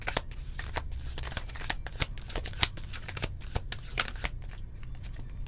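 Tarot cards are shuffled by hand close up, a quick run of crisp flicking and slapping taps with a faint murmur of talk underneath.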